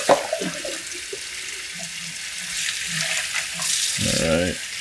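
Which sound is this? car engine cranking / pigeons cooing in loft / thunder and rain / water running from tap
water running from tap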